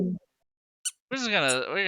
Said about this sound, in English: I have like a little rubber ducky that I'm like fidgeting with.